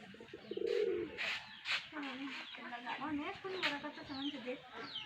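Pigeons coo and murmur close by in a backyard coop among chickens and chicks, with soft rolling calls and some clucking mixed in, under a person talking.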